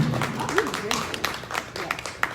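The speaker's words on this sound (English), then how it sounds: "So give yourselves a round of applause because I'm proud to see it." An audience claps in a brief burst of scattered applause, with voices mixed in underneath.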